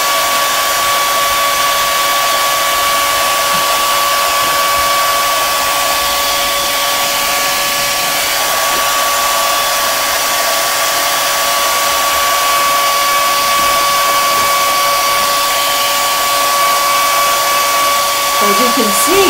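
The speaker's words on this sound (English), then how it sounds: "And I get my hair dryer right up to it." A hair dryer blows loudly and steadily at close range onto a wine bottle, with a constant high whine and rushing air and no pauses.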